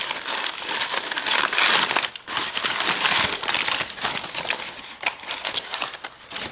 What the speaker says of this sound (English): Now let's unwrap the actual tool itself.